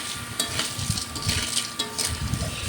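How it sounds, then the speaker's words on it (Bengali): Spices and fried taro sizzle and pop in a pan: a steady hot hiss broken by sharp, irregular crackles and spits, close and moderately loud, with no voices. "কষিয়ে নিচ্ছি আর এগুলো রান্না করার সময় যা ফোটে একটু ফুট ফুট ফুট করে করে"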